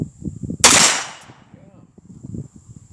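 A single .44 Magnum shot from a gas-operated Ruger Deer Slayer rifle at an outdoor fan shoot, a sharp loud crack with a quick metallic ring from a steel tank plate, decaying over a second amid background chatter and insect buzz.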